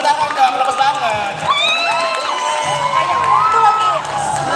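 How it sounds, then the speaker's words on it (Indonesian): A school audience at a competition event cheering and shouting, with high excited children's voices and whoops forming a dense continuous crowd din, plus talking. "Tepuk tangan dong, tepuk tangan."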